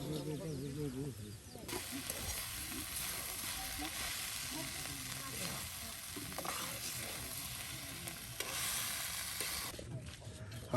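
Bitter gourd sizzles steadily as it fries in a pan, a dense crackling hiss that swells after a short lead-in and continues until near the end, with a voice talking over parts of it.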